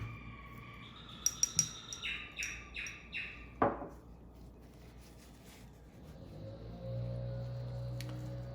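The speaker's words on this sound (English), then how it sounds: "Those are canaries." Hand-fed canaries give a run of rapid high chirps and tweets, close and fairly faint, then fall quiet over a low background hum.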